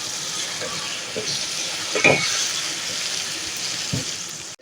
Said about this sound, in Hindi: तो यहाँ 1 मिनट मैंने लहसुन अदरक को भून लिया।